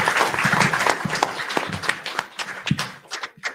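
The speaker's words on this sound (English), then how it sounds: "for all the junior and senior winners, one more round of applause, please?" Audience applause for junior and senior winners of a schools poetry contest, a dense, steady wash of many hands clapping close by, thinning slightly toward the end.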